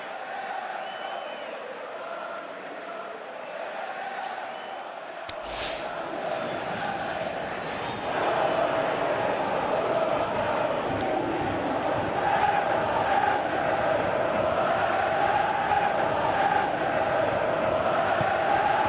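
Stadium crowd noise from the PES 2018 football video game, a steady roar that swells louder about halfway through and keeps going under the commentary.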